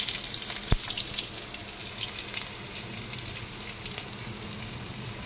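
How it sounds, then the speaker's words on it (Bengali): Potatoes fry in a little oil with salt and turmeric, a dense steady sizzle up close with one sharp knock early on. "নুন হলুদ দিয়ে আলুগুলো ভেজে নেব।"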